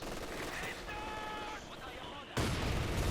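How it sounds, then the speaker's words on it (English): Panzer IV tank fire in a Company of Heroes 2 match, heard as distant gunfire and bursts of combat noise under game sounds, ending in a louder rumbling blast. "Continues under fire from the Panzer 4."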